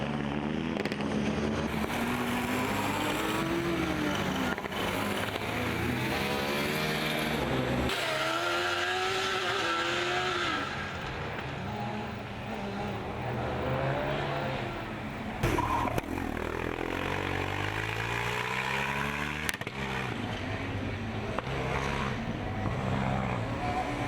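A Formula Student race car from the Ingolstadt team passes the stands during an endurance event, its motor whining in rising and falling sweeps as it accelerates and brakes, loud and sustained near the track.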